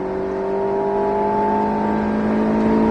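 An Alpine A110S engine pulls hard at full throttle on the Circuit du Var track, a loud, sustained rising drone with steady harmonic tones heard from inside the car, no voices.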